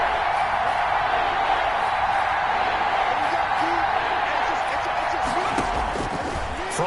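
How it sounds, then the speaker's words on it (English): Stadium crowd in an American football video game, a dense sustained roar at steady loudness with scattered whoops and shouts rising through it. "That just means this crowd's going to get even louder."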